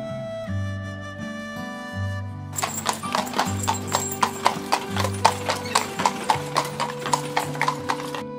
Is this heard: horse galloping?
yes